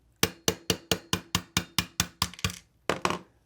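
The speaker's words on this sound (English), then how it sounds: "Tap that roll pin right out. You need your 1/8 inch punch." A 1/8 inch punch taps a roll pin out of a Hi-Point C9 pistol resting on a bench block: about ten sharp, evenly spaced metallic strikes, then a short pause and a few quicker final taps, close and clear.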